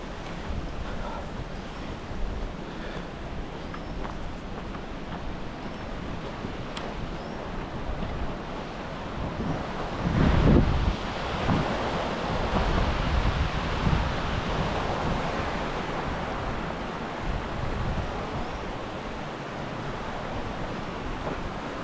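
Sahasradhara waterfall in Dehradun rushes as a continuous broadband roar of falling water mixed with wind buffeting the microphone, swelling briefly midway.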